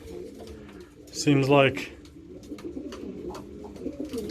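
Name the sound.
pigeons cooing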